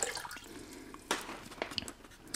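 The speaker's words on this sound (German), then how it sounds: "So, ich gebe jetzt mal das kalte Wasser hier rein." Cold water poured into a container with dry soy strips for a vegan fricassee, giving soft splashing and dripping bursts with a few sharper plops, close and fairly quiet.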